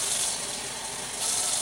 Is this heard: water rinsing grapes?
yes